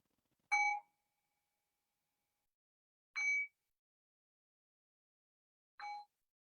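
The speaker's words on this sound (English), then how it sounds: "I'll cue that by ringing the bell 3 times." A bell rung three times at the close of a meditation practice, each strike a clear ringing tone that fades within a second, spaced about two and a half seconds apart in an otherwise silent room.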